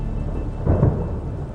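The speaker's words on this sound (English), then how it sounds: "he was confined to his hotel room by torrential rain and a storm that lasted for days" A thunderstorm with torrential rain: a steady wash of rain noise with a low, rumbling swell of thunder building and fading near the middle, no voices.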